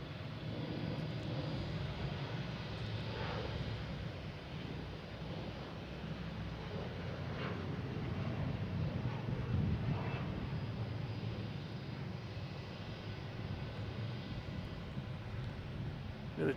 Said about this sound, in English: we have Delta, flight 5667, heading to Reagan